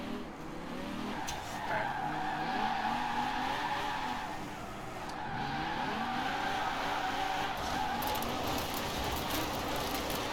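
A Mazda RX-7 Spirit R drift build in Forza Horizon 4 slides through turns, with sustained tire squeal and skidding over a revving rotary engine that rises and falls, loud and close, without talk.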